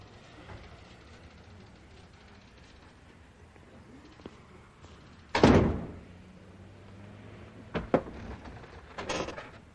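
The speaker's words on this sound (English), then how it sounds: "Close the door on your way out." A door closes with one firm thud in a quiet room, followed by a few fainter knocks and bumps.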